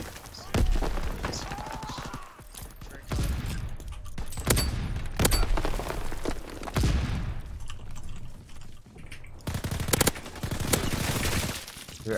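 A PTRS semi-automatic rifle fires in a multiplayer shooter game, heavy single shots booming at intervals amid other in-game gunfire and explosions, with a player talking over the action.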